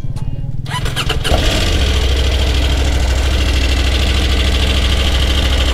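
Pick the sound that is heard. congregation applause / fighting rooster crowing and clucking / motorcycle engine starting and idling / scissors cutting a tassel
motorcycle engine starting and idling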